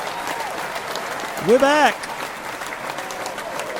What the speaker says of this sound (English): oh, the applause